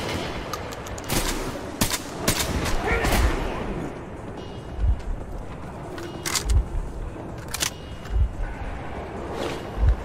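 Gunfire in the game Metro Exodus, scattered sharp shots and short bursts with low booming impacts, mixed under players talking.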